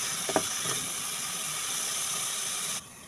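Meat browning in a frying pan for a homemade Bicol express gives a steady close sizzle and hiss, with a few light scrapes near the start, before cutting off abruptly near the end.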